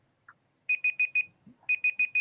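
An online timer alarm goes off in two quick bursts of four bright, evenly spaced electronic beeps each, loud and close, with a short gap and a small blip between the bursts.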